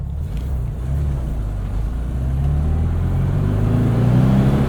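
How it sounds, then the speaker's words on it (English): The engine of a modified 1966 Volkswagen Beetle hums and drones while driving, its pitch rising steadily as it accelerates, loud and close from inside the car, with no talk. "No rev counter, but you gotta listen to the engine."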